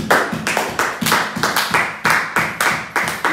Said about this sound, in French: Alléluia, acclamons pour le Seigneur